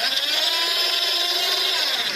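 A small DC motor driving a homemade motorized camera slider, giving a steady, high-pitched whine that stays level and close for the whole stretch.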